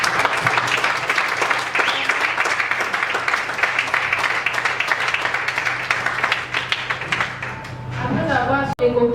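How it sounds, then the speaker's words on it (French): Audience applause at a Congolese political gathering, a dense, steady roar of many hands clapping close and loud for about eight seconds before it breaks off, with a voice briefly surfacing at the end. "En tout cas, ces applaudissements"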